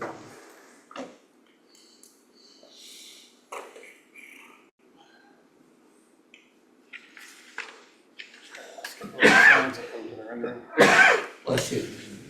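A person sneezes in a meeting room, a couple of sharp bursts near the end after quieter stretches of shuffling and murmured talk.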